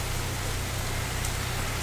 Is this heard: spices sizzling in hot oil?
no